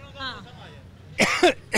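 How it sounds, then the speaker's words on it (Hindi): A man lets out a couple of short, harsh coughs after some quiet talking, close to the mic. "खांसी आ गई चाचा जी को बात करते करते।"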